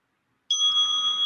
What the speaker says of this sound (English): There's one of those sweet interval bells to wake us up from our thinking, our planning, our worrying.